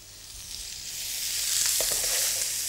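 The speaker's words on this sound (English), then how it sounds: "we want to basically get those onions fried off" Ginger and onions fry over high heat in hot oil in a pan, giving a steady close sizzle that swells louder partway through, with faint scrapes and crackles and no talking.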